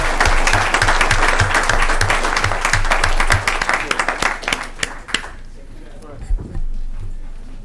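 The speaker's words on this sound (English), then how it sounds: "Round of applause, please, for" Council meeting attendees in Hollister clap a round of applause for a police officer, loud dense clapping that thins into scattered claps and fades out, with a low rhythmic thump beneath and a brief voice near the end.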